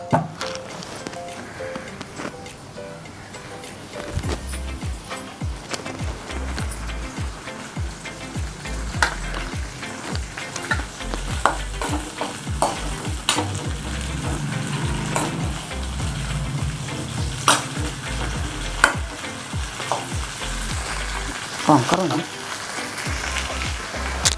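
Tomatoes fry in a generous splash of oil in a pan for a tomato chilli chutney, giving a steady loud sizzle with scraping stirs throughout, while a voice talks over the cooking.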